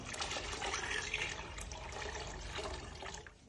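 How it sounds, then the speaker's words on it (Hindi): Water pours steadily into a pot, a close splashing gush that runs for a few seconds and tapers off at the end. "पानी डाल देंगे।"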